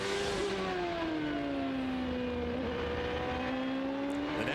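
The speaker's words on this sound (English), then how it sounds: "the car trying to squirm out from under the experienced hands of Paul Tracy as he brings it back up to speed" An 800-horsepower Champ Car driven by Paul Tracy on cold tires at the 2003 London race, its engine whining steadily as it pulls back up to speed, heard fairly close and with no talking.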